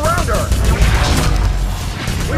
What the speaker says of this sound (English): We can try to use the spammer, Nilin's mid-range weapon.